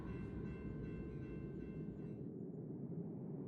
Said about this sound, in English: Freight trains carried oil, agricultural shipments, and passengers moving west in search of work.